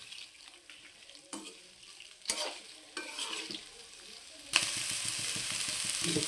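Okra pieces fry in a pan with scattered scraping stirs, then the sizzle swells into a loud, steady hiss that carries through to the end.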